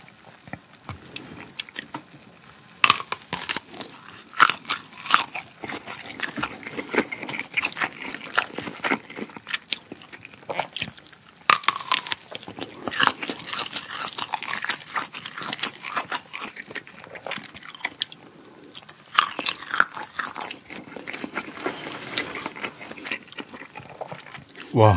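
Close-up biting and chewing of German Gelbwurst sausage, made at a monastery, with moist crunchy bites and smacking repeating throughout, loud and near, with scattered brief talk.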